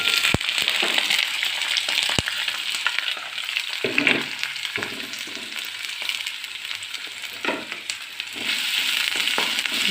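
Shallots, curry leaves, ginger and chopped garlic sizzle in the pan used to wilt okra for vendakka curry, a steady close frying hiss broken by a few sharp clicks and stirring scrapes, with no talk.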